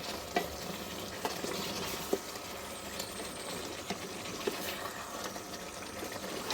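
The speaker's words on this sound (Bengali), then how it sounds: "এভাবেই নাড়াচাড়া করবেন" Beef curry with radish cooking in a pot, a faint bubbling simmer broken by occasional light scrapes and taps of a stirring spoon.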